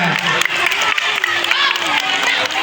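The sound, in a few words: applause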